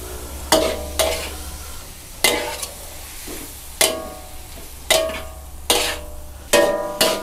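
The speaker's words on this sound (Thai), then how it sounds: "ผัดให้ตัวใบกะเพรากับใบโหระพาเขาจมลงไปนะครับ" Squid with holy basil and sweet basil stir-fried in a wok: sharp metallic scrapes of the spatula come in a steady rhythm of about eight strokes over a constant sizzle, close and fairly loud, with no talking.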